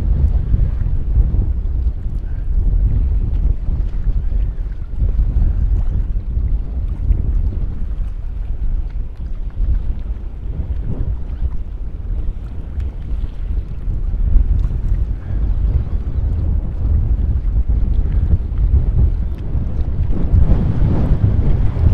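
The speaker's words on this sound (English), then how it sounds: "Because of the amount of wind tonight, which is still blowing a good 12 miles an hour at least" Strong wind of at least 12 miles an hour blowing over Moriches Bay during an evening sailboat race, a continuous low rumbling buffet of wind against the microphone with a faint wash of water beneath, no voices.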